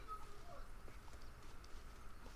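Horse hooves clip-clop faintly in Red Dead Redemption, a quick patter of light steps under a low steady rumble of game ambience, with no talk over them.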